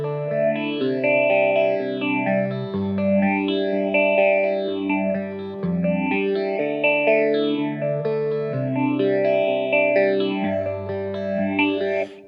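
An Intensive Care Audio Recovery Phase phaser pedal sweeps a swirling, slowly rising and falling effect over sustained electric guitar chords, with a steady repeating cycle and no talking.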